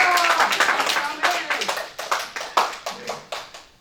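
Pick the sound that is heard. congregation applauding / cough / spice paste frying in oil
congregation applauding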